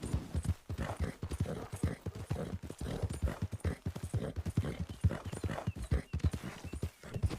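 Horse hooves clip-clopping in a video game, a steady, brisk rhythm of close, distinct hoofbeats running throughout at moderate volume.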